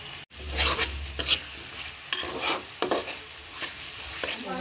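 Potatoes sautéed in a pan for bhetki fish curry crackle in a constant sizzle broken by repeated scraping stirs of a spatula, close and steady throughout, with no voices.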